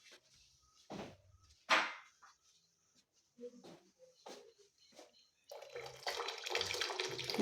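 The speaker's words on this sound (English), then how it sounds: "I'm going to add more water." Hot water is poured into a cooking paste in a pot, a rushing splash rising over the last two seconds after a few quiet knocks and clinks of utensils.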